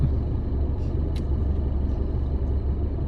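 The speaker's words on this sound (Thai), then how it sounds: "เดี๋ยวผม ขับรถตรงนี้นะครับ" Car driving along Highway 2322 in Tha Khantho district, Kalasin, Thailand, heard from inside as a steady low engine and road rumble, with a few faint clicks and no talking.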